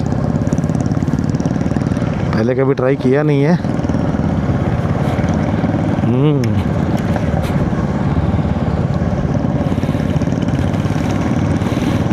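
A motorcycle on a group ride through the Little Rann of Kutch desert drones steadily and loudly throughout, while someone talks over the engine.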